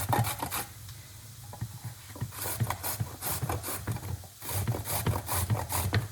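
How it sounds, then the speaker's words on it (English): A carrot is scraped against a kitchen grater in quick repeated rasping strokes, close and fairly loud, in rhythmic bursts with short gaps and no talking. "Grating our carrot, and we are just going to add it to the pan now"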